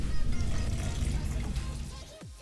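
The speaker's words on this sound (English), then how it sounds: "let's get the water pouring montage going" Purified water poured from a bottle into a container, a continuous close splashing gush lasting a couple of seconds before tapering off, with no voices over it.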